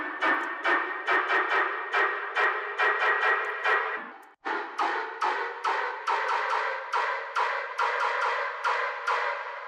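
Superb Beefed tearout bass synth preset played as a run of short, punchy stabs in a steady rhythm, with a brief break midway before the pattern resumes, fairly quiet and alone.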